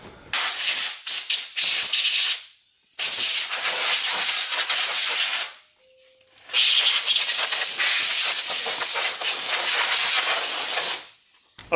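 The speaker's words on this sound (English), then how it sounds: "Let's just get that air nozzle and blow it off." Compressed air hisses from a nozzle as the rear brake assembly of a school bus is blown clean, loud sustained bursts of several seconds each, broken by short pauses, with no talking.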